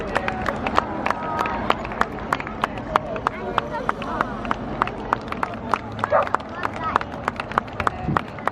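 A large roadside crowd of mourners cheering and clapping as Queen Elizabeth II's procession passes, a continuous rumbling babble of voices with sharp scattered claps throughout, moderately distant.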